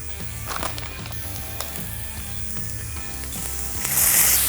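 Onions, garlic and chilli with toasting seeds fry and caramelise in a single pot for a Moroccan spiced chicken, a steady close crackling sizzle with stirring scrapes, growing louder and hissier near the end, with no talking.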